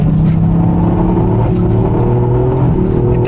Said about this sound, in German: Auto kommt.